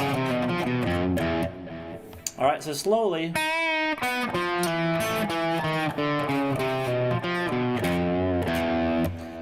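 Distorted electric guitar playing a short chromatic lick with bending, sliding notes. Someone talks briefly before and over the playing.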